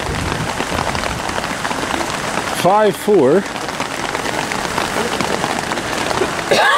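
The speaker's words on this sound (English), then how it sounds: "The rain is still coming down." Steady rain pours down at an outdoor high school lacrosse game, a constant broadband hiss throughout, with a commentator briefly speaking over it in the middle.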